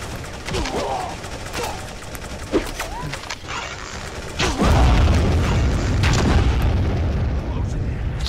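Gunfire booms and bursts in the VR shooter game Battle X on Oculus Rift, with scattered sharp shots followed by a sustained heavy barrage of fire, while a player talks over it.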